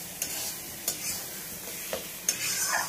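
Food sizzles steadily in hot oil in a wok, with a few sharp spatula scrapes and clacks against the pan scattered through the frying; close by, no talking.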